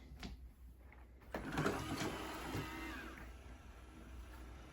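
An iRobot Roomba S9+ robot vacuum starts up and begins cleaning with a few beeps and clicks, then a rising mechanical whir that settles into a steady, fairly quiet motor drone.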